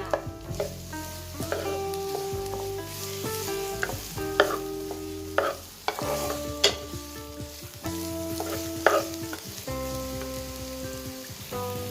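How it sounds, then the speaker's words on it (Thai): Sliced onions stir-frying in a hot pan with a little oil, a steady sizzle broken by repeated scraping stirs at an uneven rhythm, close and moderately loud with no voices. "ใส่หอมใหญ่ที่ซอยไว้ลงไปนะคะ ผัดให้หอมใหญ่หอมนะคะ แล้วก็นิ่มค่ะ"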